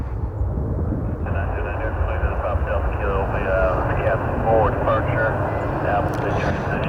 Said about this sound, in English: Got a Cessna Citation inbound here.